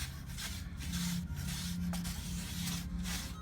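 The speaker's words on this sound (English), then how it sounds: "I'm going to use my brush just so we don't kind of waste any paint, just scrape it all down." A brush scrapes leftover paint glaze down the inside of a ceramic mug at a paint-your-own-pottery table, making soft, continuous rubbing strokes in repeated short passes, fairly close and quiet.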